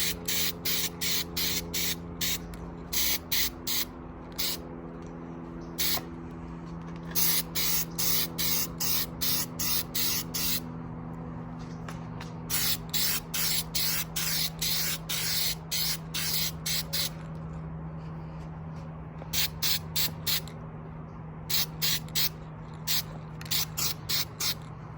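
Black Steelit coating sprayed in a thin coat onto an aluminum fender liner for a Tacoma, heard as many short, sharp hissing bursts in quick uneven succession, close and crisp over a faint steady background hum.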